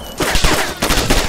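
Rapid gunfire in the DayZ Standalone game rattles out in a loud, close burst of repeated shots, sharp cracks following one another in quick succession with no talk over them.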